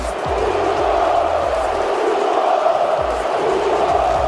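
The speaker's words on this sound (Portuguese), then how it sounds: "Um grito diferente ecoou nas arquibancadas do Maracanã." Flamengo supporters in the packed stands of Maracanã stadium roar and chant together during a football match, a broad, loud, sustained crowd shout with distant echoing thumps beneath.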